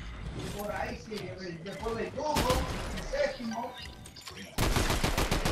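Sniper rifle shots and other gunfire ring out in a Fortnite match as sharp, loud bursts, with a dense volley near the end, while a player talks excitedly throughout.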